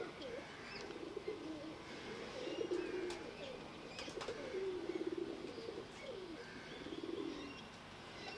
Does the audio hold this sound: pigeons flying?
yes